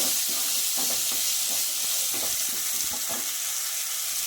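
Chopped onions with salt frying in a pan, a loud steady sizzle and hiss filling the whole stretch, with soft irregular stirring scrapes underneath.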